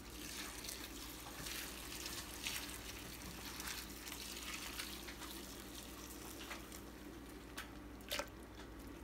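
Boiling water splashes and streams steadily over chopped cabbage and carrot in a pot, a continuous wet hiss with small drips, fairly close and without talk.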